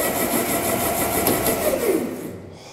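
The engine of a motorized grand piano revs hard with a loud, steady roar that holds for a couple of seconds, then tapers off and drops away near the end.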